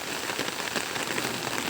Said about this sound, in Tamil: இப்போ தான் மழை ஆரம்பிச்சிருக்கு.